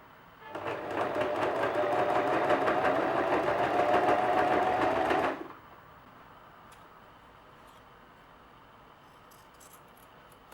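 A sewing machine stitches a pressed fold on a T-shirt, a close, fast, even run of needle clatter lasting about five seconds before stopping abruptly, followed by a quiet room with faint clicks.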